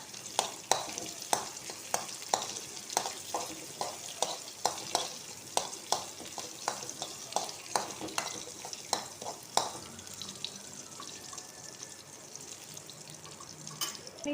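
Onion, mustard seeds and curry leaves frying in a pan for jackfruit thoran, with a spoon stirring and scraping in steady repeated strokes over a continuous close sizzle; the stirring eases off near the end, leaving the sizzle alone.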